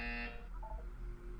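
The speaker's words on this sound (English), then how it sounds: "You will hear a buzzer." Electronic buzzer from a Portal 2 test chamber: a bright, harmonic-rich buzz holds for about half a second and cuts off, followed by a few faint tonal blips over a low room hum.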